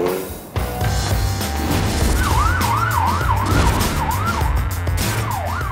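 A police car siren wails in a repeating rising-and-falling pattern over steady traffic rumble, close and loud, as the car chases a suspect on a moped.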